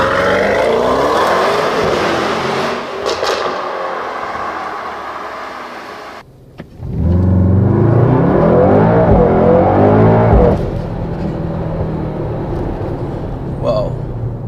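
A 2019 Mercedes-AMG GT 63 S 4-Door Coupe 4MATIC+ accelerating hard in Sport Plus mode, with a loud, close engine roar climbing through the revs, a brief dip at a gear change, then another rising pull under cabin noise.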